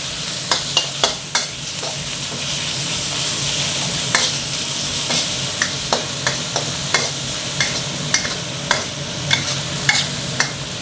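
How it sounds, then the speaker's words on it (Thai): Minced pork stir-fried over high heat for pad kaprao, a loud, close, steady sizzle punctuated by rhythmic sharp scrapes and knocks of a spatula against the pan roughly every half second, no voices. "เราจะลวนจนน้ำหมูเริ่มสุกแบบนี้นะครับ"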